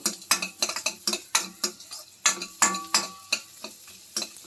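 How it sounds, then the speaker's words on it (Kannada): Onions frying in butter in a pan for spinach soup, with a utensil stirring and scraping in quick repeated strokes over a soft sizzle, close by and with no voices. "ಎಲ್ಲ ಬೆಣ್ಣೆಲೆ ಫ್ರೈ ಮಾಡಬೇಕು. ಈರುಳ್ಳಿ ಚೆನ್ನಾಗಿ ಫ್ರೈ ಆಗಬೇಕು."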